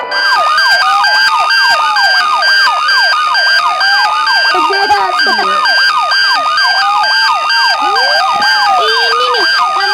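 A long truck sounds a loud, unbroken siren with rapid, repeating wailing sweeps layered over steady high tones. The siren is close and constant throughout.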